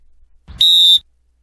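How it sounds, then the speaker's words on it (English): A roller derby referee's whistle gives one long, loud, steady blast signalling a penalty, lasting under half a second and heard alone in a quiet room. "One long blast means penalty, and that sounds like this."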